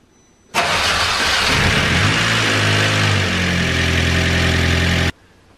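A newly installed 1.8T engine in a MK2 VW GTI cranks and fires, jumping abruptly to a loud, steady idle that runs for about four and a half seconds close by before cutting off suddenly.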